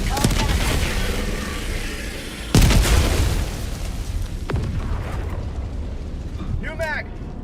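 An explosion in the video game Helldivers lands as a loud, sudden boom after ongoing gunfire and rumbling noise, followed by a lighter secondary blast and trailing chaos, with a voice briefly speaking near the end.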